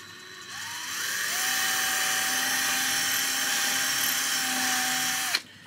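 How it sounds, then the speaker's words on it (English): A small power drill bores a hole into a model tree trunk, a steady high whine that spins up, holds for several seconds, then cuts off with a click. "And then what I like to do is drill another hole just right above or below."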